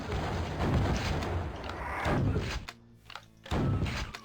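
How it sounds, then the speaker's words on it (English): Rockets fired at a Revenant in DOOM, with heavy booming launches and thudding blasts in quick succession, a brief lull, then another loud burst of explosive impacts. "Let's see if we can soften this one up with a rocket."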